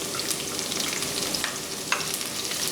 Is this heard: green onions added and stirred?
yes